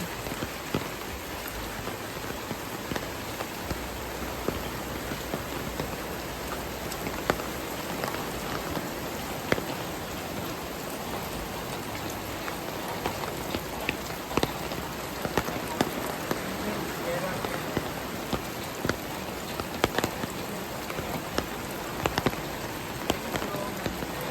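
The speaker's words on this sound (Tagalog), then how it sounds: "Guys, malakas ulan na." Heavy rain falls steadily, with a dense, hissing patter and occasional louder drops on nearby surfaces, continuing unbroken throughout.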